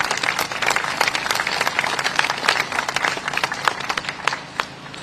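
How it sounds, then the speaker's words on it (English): Sustained applause from a crowd at a Commonwealth Day ceremony, dense clapping filling the room steadily before thinning slightly near the end. "they deserve a huge round of applause."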